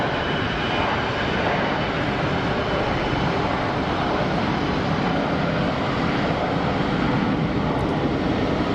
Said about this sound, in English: Let's get the intersection departure of this Gulfstream.